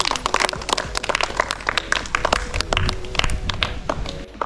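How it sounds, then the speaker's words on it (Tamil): A group of people clapping together during a village children's game, dense overlapping claps at close range with no speech. "கை தட்டுங்க எல்லாரும்."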